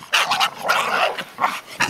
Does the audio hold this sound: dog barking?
yes